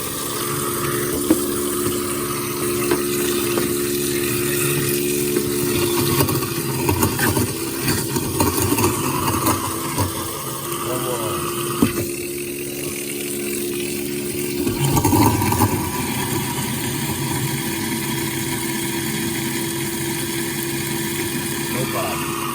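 A Waste King L-8000 1 HP garbage disposal with a power cord runs and grinds food, including a whole orange, as a steady close motor drone whose pitch shifts slightly partway through.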